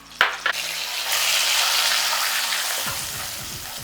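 A paste of ground onion and green chilli fries in a hot pan, giving a steady, close sizzling hiss after a couple of sharp clicks, with a few soft knocks near the end.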